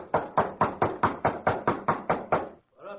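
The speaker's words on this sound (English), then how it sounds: "Knock again." A steady run of about ten firm, evenly spaced knocks on a door at a western homestead, loud and close, stopping abruptly before a voice begins.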